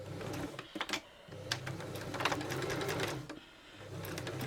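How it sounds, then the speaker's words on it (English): A sewing machine stitching a zigzag seam on fabric ruffles, close and moderately loud, running in short bursts with brief pauses between runs of rapid mechanical whirring. "And now I am doing a zigzag. I do like my ruffles with a zigzag stitch"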